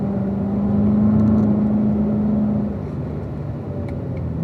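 A car engine drones steadily after a downshift to third gear on a mountain drive, a loud, close hum that swells and then eases off as the throttle lifts.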